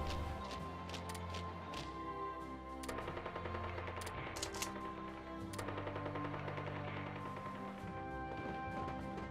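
Rapid machine-gun and rifle fire from a Hearts of Iron 3 battle, steady crackling bursts layered over a droning game soundtrack, continuous and fairly loud with no talking.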